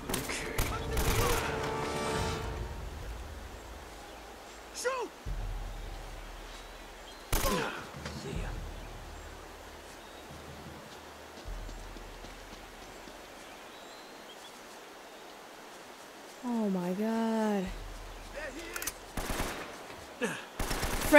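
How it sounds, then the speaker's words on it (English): Bursts of automatic gunfire in Uncharted: Drake's Fortune, scattered cracks and volleys separated by quieter gaps over a long stretch, with a voice speaking at moments among the shots. "Whoa, who's shooting?"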